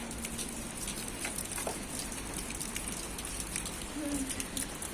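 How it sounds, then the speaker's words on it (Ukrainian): Steady rain patters on surfaces, a dense continuous hiss with scattered drip sounds throughout. "Але дощ ще йде."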